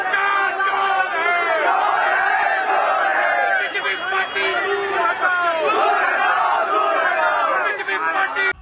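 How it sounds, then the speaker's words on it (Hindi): A crowd of Muslim protesters chants slogans against Home Minister Amit Shah, a dense, loud, continuous mass of shouting voices with rhythmic rising cries throughout. "कैसे गृह मंत्री अमित शाह के खिलाफ मुसलमानों की भीड़ ने नारेबाजी की है"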